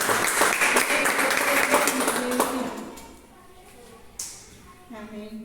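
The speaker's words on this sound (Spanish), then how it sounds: "Si va a aplaudir, hágalo bien." A church congregation claps together, a loud burst of applause that fades out midway, followed by a voice speaking over the quieter room.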